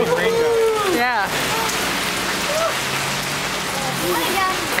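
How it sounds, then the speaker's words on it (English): Steady rain falls throughout an outdoor Christmas boat parade in December, a dense, even hiss with voices and tonal sounds drifting through it. "Getting rained out."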